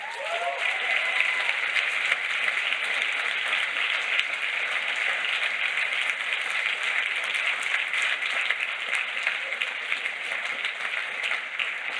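An audience at the Ubuntu Summit 2023 gives a sustained round of applause, a broad even wash of many hands clapping at a steady level throughout, with no talking.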